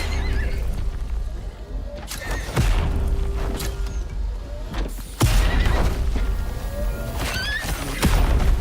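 A horse in the survival game Icarus neighs and whinnies several times, with clip-clop hoof sounds and game effects around it, fairly close and loud.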